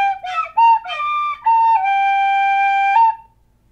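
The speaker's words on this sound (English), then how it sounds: "Here's how a flute sounds." A clear, breathy flute plays a short run of notes, ending on a long sustained tone that stops cleanly.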